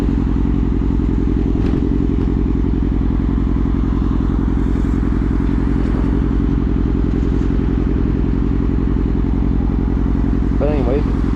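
Suzuki GSX-R 750 race bike being ridden, its engine droning loud and steady throughout with a dense buzzing hum, while the rider talks over it.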